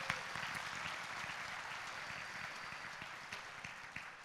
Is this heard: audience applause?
yes